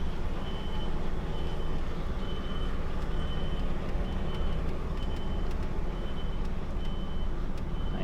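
A truck reverses while turning in a yard, its beeper pulsing at a regular rhythm over a loud, constant engine rumble, close by.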